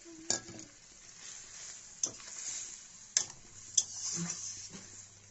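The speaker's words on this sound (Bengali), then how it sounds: "এখন মাছের ডিমগুলো দেওয়া হচ্ছে।" Fish roe goes into a pan of fried onions and a little water, making a faint simmering sizzle broken by a few sharp clinks and scrapes of a utensil against the pan.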